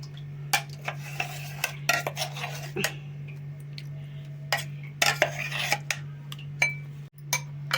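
A spoon scrapes and clinks against a bowl as raw wood apple chutney is transferred, giving a series of sharp, irregular taps and scrapes over a steady low hum.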